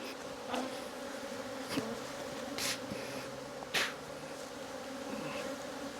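Agitated honey bees swarm around an opened backyard hive with the bottom board exposed, their dense, steady buzzing filling the air close by. A few louder individual bees zip past near the microphone, with no talk.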